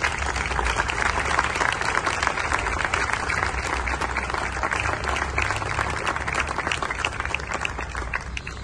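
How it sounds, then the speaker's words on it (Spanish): An audience at a civic ceremony applauds a group of young schoolchildren, with loud, sustained clapping from many hands, crisp and busy throughout before easing slightly at the end. "a quienes recibimos y les damos un aplauso,"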